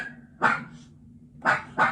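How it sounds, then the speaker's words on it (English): A dog barks three times, one sharp bark followed by a pause and then two quick barks close together, near and fairly loud in an indoor room. "Damn dog."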